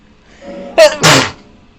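A single short sneeze, a quick inhale followed by a sharp burst, loud and close against quiet background.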